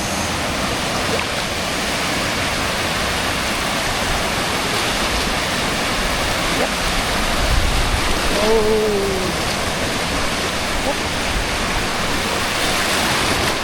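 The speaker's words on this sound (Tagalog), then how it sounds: "Ganda ng waves." Ocean waves break at Nagtabon Beach in a loud, constant wash of surf that fills the whole stretch. A faint voice or tone briefly rises above the roar partway through.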